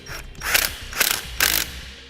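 A hand ratchet clicks in three short, loud bursts while reinstalling a nut during a wiring harness installation on a 2017 Jeep Renegade, close up with no talking.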